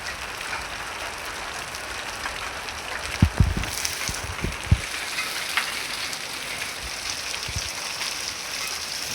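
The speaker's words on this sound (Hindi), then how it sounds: "पहली बारिश में कड़े गिर रहे, पहली बारिश में।" Steady hiss of hailstones pattering down outdoors in a Rajasthan village during the season's first rain, with a few louder thuds and knocks breaking through the constant dense clatter.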